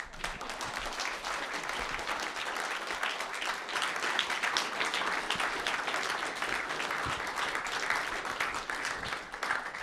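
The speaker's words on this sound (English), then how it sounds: "So just one more time, just a round of applause for Bulletin" A live-event audience at an RPG Limit Break 2019 finale breaks into steady, sustained applause, a dense even wash of clapping from a large crowd lasting throughout.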